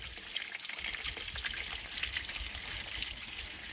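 Water-contaminated coolant drains from the cooling system of a 2000 Ford Excursion V10 during thermostat and coolant reservoir replacement, a steady close splashing gush with no talk.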